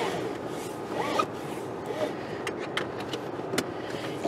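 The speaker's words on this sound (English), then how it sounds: "Seatbelt." Inside a car, a seatbelt is pulled across with a zipping rustle, followed by a few sharp metallic clicks as the buckle latches, all close over a low cabin rumble.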